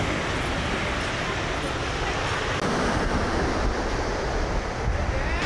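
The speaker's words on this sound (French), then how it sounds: "Tu voulais voir la mer? On y est, la mer." Ocean waves washing onto Dawson Beach at Do Son, Vietnam, a continuous loud broadband surf roar mixed with wind buffeting the microphone.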